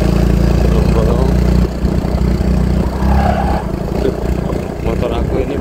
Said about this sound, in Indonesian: Motor aku ini belum diservis. Ada suara ngok-ngok gitu.